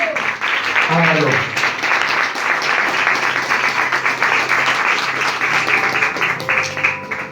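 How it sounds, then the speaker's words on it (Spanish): A church congregation claps steadily for God during a Spanish-language sermon on baptism, dense hand-clapping sustained for several seconds with voices talking and calling out over it. "¿Pueden darle un fuerte aplauso a Dios?"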